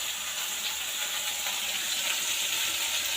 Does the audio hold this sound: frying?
yes